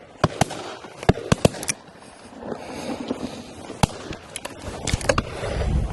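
Shotgun shots fired at partridge on a driven shoot at Warter Priory, several sharp loud cracks spaced irregularly across the moment, with outdoor rustle and handling noise between them.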